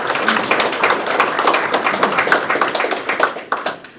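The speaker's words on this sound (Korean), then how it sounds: "큰 격려 박수 한 번 더 부탁 올리겠습니다" Audience applause at an inauguration ceremony in a city hall meeting room: dense, steady clapping from many hands, close and loud, continuing without pause.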